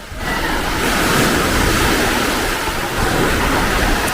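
Ocean surf at the sea roars steadily and close with loud, continuous wash and some wind buffeting on the microphone, and no one speaks.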